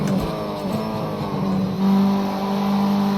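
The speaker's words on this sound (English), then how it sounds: "when the engine reaches sort of max revs, I don't hear it like I do in a high performance sports car" A race car in Project Cars 2 at Oulton Park, its engine held near maximum revs with a steady, buzzing drone that rises slightly in pitch, loud and continuous with no talking.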